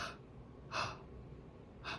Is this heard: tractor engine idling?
no